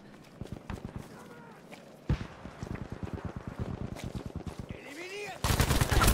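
Gunfire in Battlefield 5: rapid bursts of automatic shots in quick succession, fairly close and loud, with a heavier clatter of shooting toward the end.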